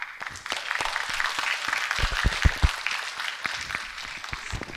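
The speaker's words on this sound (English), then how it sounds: "A huge round of applause for the esteemed panelists for Vartalap." An audience at a Shristi Talks 2024 conversation event applauds the panelists, a steady sustained clapping from many hands, with some louder individual claps standing out near the middle.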